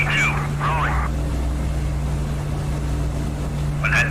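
Twin Merlin engines of a de Havilland Mosquito in DCS, held at takeoff boost on a night intruder mission, make a steady loud drone throughout, with a few short radio-style chirps over it.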